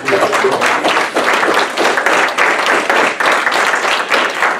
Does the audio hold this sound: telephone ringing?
no